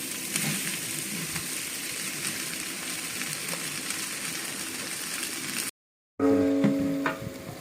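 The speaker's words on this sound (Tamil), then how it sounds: "ஆனியன் நல்லா ப்ரௌனாக வறுத்துக்கலாங்க." Three kilos of sliced onions sizzle steadily in hot oil with spices, cooking for a large 10 kg mutton biryani. A continuous close frying hiss runs for several seconds, breaks off briefly, then resumes with a clattering stir.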